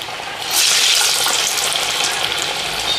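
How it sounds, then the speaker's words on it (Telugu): Sweet corn vadas dropped into hot oil burst into a loud, close, steady hiss and crackle that swells after a moment and holds. "ఈ వడలను మీడియం టు లో ఫ్లేమ్లో పెట్టుకొని ఫ్రై చేసుకోవాలి."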